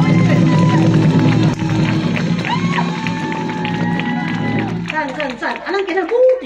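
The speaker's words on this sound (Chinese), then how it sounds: "谢谢你们，谢谢，掌声鼓励" At the curtain call of a Taiwanese opera troupe, the audience gives scattered, lively applause and cheers. A voice and lingering low musical tones sound underneath, and the crowd noise thins and becomes choppier near the end.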